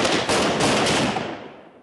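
Gunfire from a para special forces commando fire-and-move drill, heard as a loud, dense burst of rapid shots that holds steady for over a second and then tails off, with no voices.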